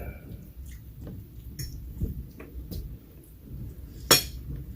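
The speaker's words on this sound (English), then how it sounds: "And so you just hear the freaking silverware." Sparse, quiet clinks of silverware against dishes at an awkward, near-silent dinner table, scattered soft taps over faint room noise, with one sharper clink near the end.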